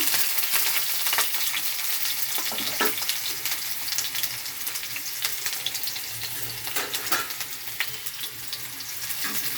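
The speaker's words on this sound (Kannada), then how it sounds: "ಎಣ್ಣೆ ಕಾದಿದೆ ಇವಾಗ ಕಟ್ ಮಾಡ್ಕೊಂಡಿರೋಂಥ ಈರುಳ್ಳಿ ಹಾಕೊಬೇಕು" Chopped onions frying in hot oil in a pan for sambar, a dense, steady sizzle with crackling spits and a few scraping stirs, close and continuous without speech.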